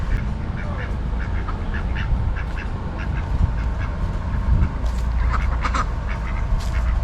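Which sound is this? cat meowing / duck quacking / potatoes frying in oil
duck quacking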